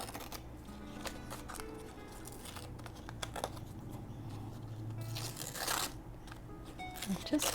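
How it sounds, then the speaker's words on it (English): Book page paper being torn by hand around its edges, a run of close rustling rips and crinkles over a busy background, with a faint voice now and then. "Maybe I'll rip it off all the way around this time."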